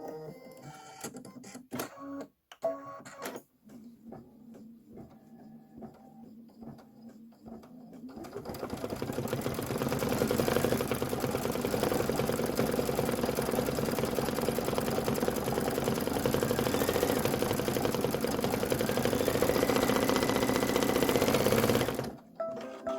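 An embroidery machine stitches a display cupcake liner. Fast, steady mechanical chatter runs continuously for most of the stretch, loud and close, after a few scattered clicks and taps at the start.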